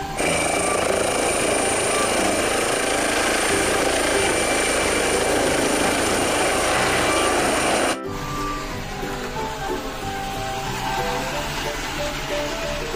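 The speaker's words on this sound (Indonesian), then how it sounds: "Ada helikopter." A loud, continuous helicopter-like rotor and engine roar, likely from a toy or video, drones steadily for about eight seconds before cutting abruptly to a quieter, different background sound.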